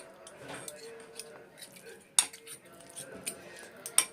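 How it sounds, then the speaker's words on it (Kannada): A spoon mixing mayonnaise and ketchup in a bowl for a sandwich makes soft, intermittent scraping clinks with two sharper taps against the dish, heard close but fairly quiet. "ಮಯೋನೀಸ್ ಹಾಕಿದ ಸ್ಪೂನ್ ಅದಕ್ಕೆ ಅದನ್ನು ಇಟ್ಕೊಂಡು ಎರಡು ಇಟ್ಕೊಂಡು ಮಿಕ್ಸ್ ಮಾಡ್ತಾ ಇದ್ದೀನಿ"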